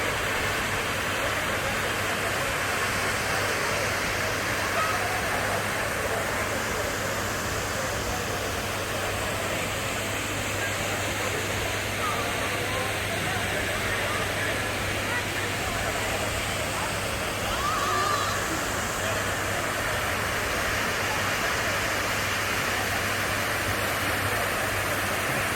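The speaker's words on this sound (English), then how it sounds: "Hey, we at the waterfall." Waterfall in Haleiwa Valley, Hawaii, a steady, dense broadband roar of falling water running unbroken and close for the whole stretch, with faint voices of people nearby mixed under it.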